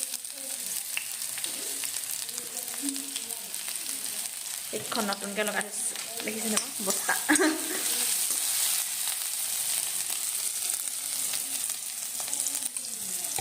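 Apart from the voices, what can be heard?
onions frying in oil in a pan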